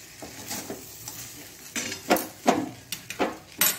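A spoon stirring and scraping avalakki usuli, Mangalorean-style beaten rice, in a pan with coconut oil, a series of close, uneven scrapes and clinks over a faint sizzle.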